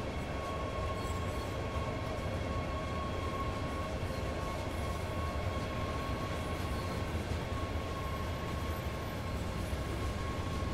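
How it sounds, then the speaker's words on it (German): A freight train from Train Sim World 4 rumbles past in a steady, loud, continuous roar of rolling wheels and wagons, with no talking over it. "Schöner Güterzug."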